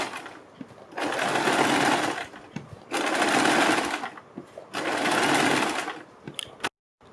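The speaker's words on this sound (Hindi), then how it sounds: "बुकरम के बिल्कुल बराबर में पूरे गले के ऊपर सिलाई लगाएंगे" A sewing machine stitches around a kurti neckline in three steady, whirring bursts of roughly one and a half seconds each, separated by short pauses, heard close and alone.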